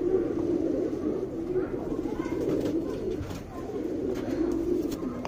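A pigeon being treated for a disease coos steadily and softly. The low, throaty calls roll on continuously, close by, over a faint background murmur.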